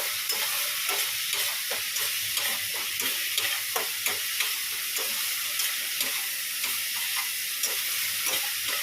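Spice masala sautéed in oil in a pan: a loud, constant sizzle and hiss with a rhythmic run of scraping spatula strokes, close by and uninterrupted by talk.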